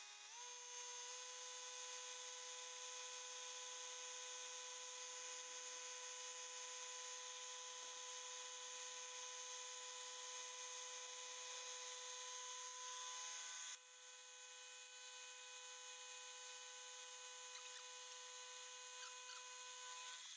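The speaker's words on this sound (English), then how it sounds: "I'm now going to put it in the mill and clean the edges up." A milling machine cleans up the edges of a metal 3-inch MAF flange for a Volvo 940 drift car, giving a steady, continuous mechanical whine that drops slightly in level about two-thirds of the way through. No one speaks.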